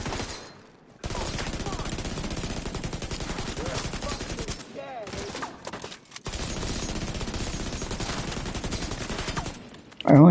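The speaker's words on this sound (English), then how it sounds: "I only want to be the only one shooting through the windows" Rapid automatic gunfire rings out in Rainbow Six Siege as shots rip through windows, long dense bursts filling most of the stretch, broken by brief pauses and a louder crack near the end.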